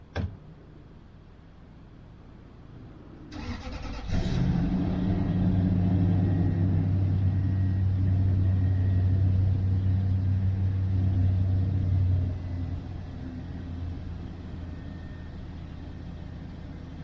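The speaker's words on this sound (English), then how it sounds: "I'm gonna go out and start the truck up here." A pickup truck's engine cranks and starts on a frosty early morning, then settles into a steady, loud low idle rumble that later drops to a quieter, even idle.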